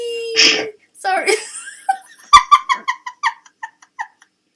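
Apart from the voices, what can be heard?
sneeze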